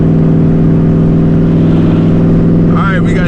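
Twin turbo Boss 302 Mustang on boost, a steady loud engine drone with dense harmonics running throughout, pulling hard, with a brief voice near the end.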